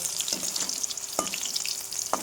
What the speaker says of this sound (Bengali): কী করলাম ভাজাই করে নিলাম এত নরম বেগুনটা ফুলে ফুলে পড়ে যাচ্ছে